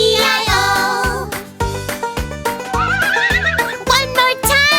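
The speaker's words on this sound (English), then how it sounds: "With a neigh-neigh here and a neigh-neigh there." Repeated horse neighs and whinnies ring out loudly over a bouncy children's farm-song backing, one after another in rhythm with the music, part of an animated nursery rhyme about farm animals.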